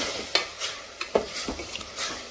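Vegetables with spinach sizzling in hot oil in a pan for khichdi, with a soft steady frying hiss broken by several sharp scraping stirs of a spoon against the pan, close and fairly quiet.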